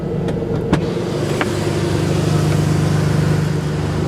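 A Ferrari Enzo engine runs at a steady, loud, close idle with a deep rumbling hum and a few small clicks, holding even until just before shutdown.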